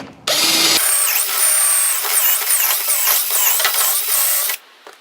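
A power drill bores a dowel hole into wood through a dowel jig, one loud continuous high-pitched whine lasting about four seconds with a brief startup before it and quiet after.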